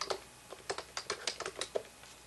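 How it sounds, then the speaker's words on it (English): Keys clack on a USB keyboard used with a Netgear NeoTV Prime Google TV box, about a dozen quick, close taps in an uneven typing rhythm over a quiet room. "I'm going to use this keyboard here."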